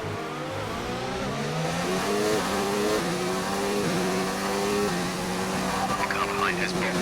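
A Formula One race car from the F1 2019 video game drives at speed, its engine revving steadily and climbing through gear changes, loud and continuous, with a voice talking in brief moments near the end.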